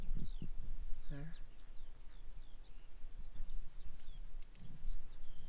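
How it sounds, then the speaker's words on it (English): Skylarks sing high overhead in a national park on moorland, their thin chirping warbles running steadily and faint at a distance over soft outdoor background noise. "Just going to lie here by the door and listen to the birdsong. Some skylarks up there."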